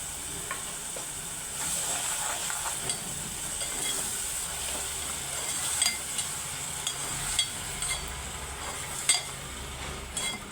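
Tomato paste fries and sizzles in a pan for a potato chicken curry, a steady hiss with a spoon stirring and occasional soft clinks against the metal, close and alone without talk.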